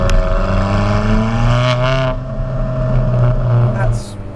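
Engine of an Alfa Romeo 4C or Lotus Evora sports car rising and falling in pitch as it revs, loud and close from inside the cabin, with people talking over the drone.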